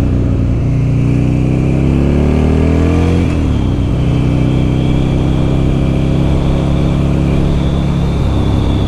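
A 2006 Buell XB12R motorcycle engine revs up loudly, climbs in pitch, then drops back to a steady, rumbling idle, close and alone without talk.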